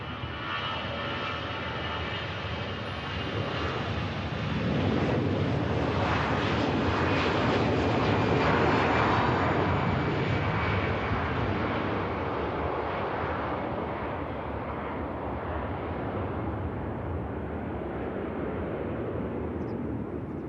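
A long-haul airliner at Manchester Airport just in from Delhi, its engines giving a steady, broad roar that swells near the middle and then holds at a sustained level, with no talk.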